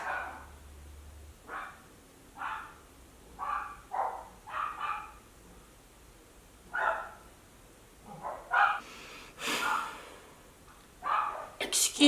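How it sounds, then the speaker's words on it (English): Several dogs barking and yipping in a home during a makeup tutorial, short bursts repeating at irregular intervals across the clip, fairly close and moderately loud, with a few louder barks toward the end. "excuse my dogs if they would shut up."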